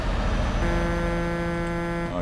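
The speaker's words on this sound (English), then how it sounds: "It's like a low-pitched horn." Low-pitched truck horn in Euro Truck Simulator 2, sounding as a steady, loud tone over engine and road rumble and cutting off near the end.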